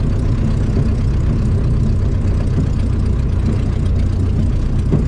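A small airplane's piston engine and propeller drone steadily at low power while taxiing slowly, a continuous loud, even rumble with no speech over it.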